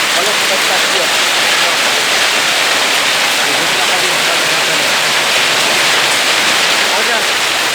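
Torrential rain mixed with hail during a São Paulo storm, a constant roaring wash of water close by, loud and unbroken from start to finish.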